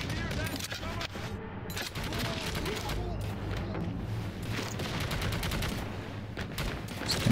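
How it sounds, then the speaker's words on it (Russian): Sustained gunfire from Necromunda: Hired Gun, dense overlapping bursts and shots running throughout amid game noise and a speaking voice. "По мне стреляют."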